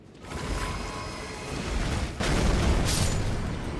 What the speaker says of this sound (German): Alter, die explodieren.